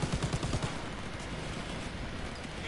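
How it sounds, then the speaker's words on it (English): Rapid bursts of gunfire from enemies in a World War II video game rattle in quick rhythmic volleys, then settle into a dense, continuous wash of distant shooting and battle noise. "I'm getting shot from loads of places, lads."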